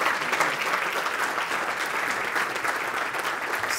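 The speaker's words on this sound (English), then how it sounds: "Big round of applause." An audience at a startup brewery challenge event applauds the Wynwood Brewing winner, dense and loud continuous clapping that holds steady throughout.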